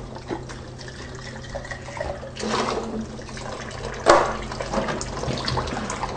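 Baby bottle caps and parts rinsed under a running tap: a steady close stream of water with swelling splashes and a brief louder gush as the pieces pass through.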